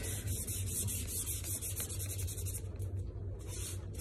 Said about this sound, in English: dip it in the Waverly Wax. The color is Antique. And just brush it on.